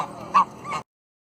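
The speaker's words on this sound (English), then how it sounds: "The geese you've just seen in the video clip are domestic geese." Domestic geese in a local park, two short honks close by, the first louder, before the sound cuts to silence.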